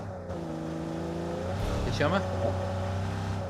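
A video game car engine revs and drones steadily with rising and falling pitch, close and loud, while a voice speaks over it.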